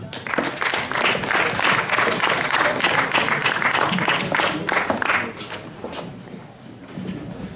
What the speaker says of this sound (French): si on peut les applaudir, s'il vous plaît